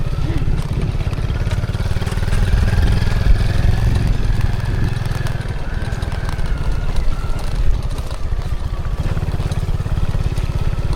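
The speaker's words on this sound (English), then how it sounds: "Unfortunately, we have another hole in the exhaust." Motorcycle engine with a hole in the exhaust idling close by, a loud continuous rattling, clattering drone that stays steady for the whole stretch with no talk over it.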